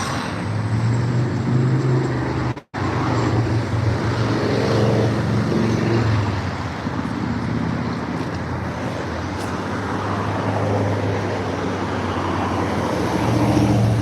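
A bus drives through road traffic, its steady engine rumble and road noise continuous and close throughout, with one brief dropout partway.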